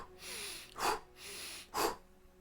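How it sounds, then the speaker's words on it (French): Rapid dynamic breathing in the Wim Hof style, heard as two sharp forceful exhales through the mouth, each following a softer drawn-in breath through the nose, close and quiet. "on va enchaîner 30 grandes inspirations dynamiques, un petit peu comme la respiration courte et intense"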